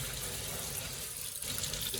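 Water gushes steadily from a washroom tap at Singapore's Changi Airport, a close, even rush of running water with a brief dip partway through.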